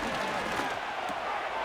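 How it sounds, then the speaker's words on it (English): A stadium crowd in Madden 25 roars with a steady, dense, loud wash of cheering during an NFL game between the Miami Dolphins and Houston Texans, filling the whole moment without letup. "This crowd turning up the decibel level."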